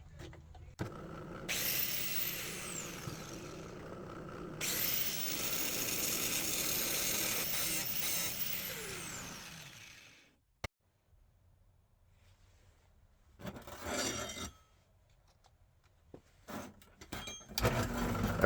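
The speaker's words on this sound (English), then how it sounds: "next project is to turn the head off of this bolt" A lathe turns the head off a steel bolt for a hood ornament build. A loud metallic cutting noise runs in two long passes with a short break between them. Quieter, intermittent shop and machine sounds follow.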